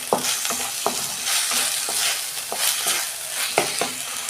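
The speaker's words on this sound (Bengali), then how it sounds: "এই আদা রসুনটা আমি একটু কষে নিচ্ছি" Ginger, garlic and tomato sauté in a hot pan, a continuous sizzle broken by regular scraping stir strokes about twice a second, close and loud with no talking.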